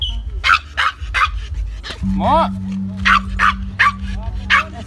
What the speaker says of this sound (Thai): เห่าทุกคนแหละ